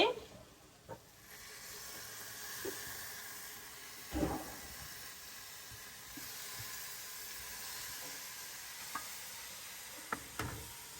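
Mutton frying in a pan for coconut green biryani, a steady soft sizzle with occasional stirring clanks, fairly quiet and continuous.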